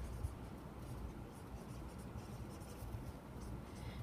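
Steady faint scratching of chalk or a marker writing a sentence by hand during a math review lesson, continuous for several seconds with no talk over it.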